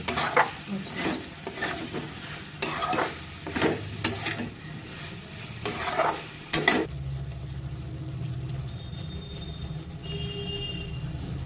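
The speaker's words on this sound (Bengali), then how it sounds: "ভালো করে এবার ফুলকপিগুলো কষিয়ে নেব।" Cauliflower florets stir-fried in a pan for a Bengali vegetarian roast, with repeated scraping stirs and a steady sizzle over the first seven seconds, then a quieter continuous frying hiss.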